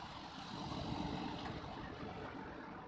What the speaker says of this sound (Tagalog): Yan, big waves.